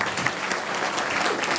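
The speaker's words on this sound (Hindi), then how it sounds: "ऐसे ताली बजाओ ताकि पानी पीने का मौका मिल जाए" An audience at a business opportunities meeting in Janakpur, Nepal claps together, a dense, sustained burst of many hands at a steady level filling the room with no talk over it.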